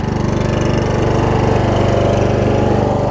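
Husqvarna YTH21K46 riding mower with a Kohler Courage engine that is loose and leaking runs loud and close, a steady pulsing throb and drone with no break.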